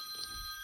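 A telephone rings indoors during a crafting session, a faint electronic tone steady at a distance with a brief louder chirp, alone with no voices.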